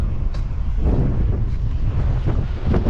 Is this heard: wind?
yes